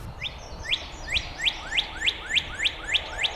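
A male northern cardinal sings outdoors, repeating a clear, rising whistled note about every third of a second in a steady series. The song is fairly loud against faint background noise.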